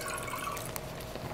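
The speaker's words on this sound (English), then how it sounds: "let's fill that out with water so we can see the chug as well" Water is poured into a glass bong, a steady splashing, gurgling fill heard close up and fairly quiet, with no talking.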